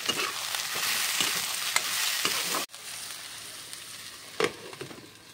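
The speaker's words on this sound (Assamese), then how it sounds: "এইফালে সজিনা পাতখিনি দিয়াৰ পিছতো আকৌ এবাৰ ভাজি ল'ম" Drumstick leaves and lentils fry in a pan with a continuous close sizzle and stirring, briefly dipping midway before settling into a quieter crackle with a few scraping taps.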